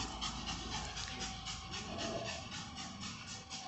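A small dog pants steadily and close by in a cluttered indoor space, quick rhythmic breaths continuing throughout without pause, with no one speaking.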